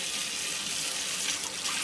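Warm water running steadily from a tap, a constant close hiss with no pauses and no talk over it.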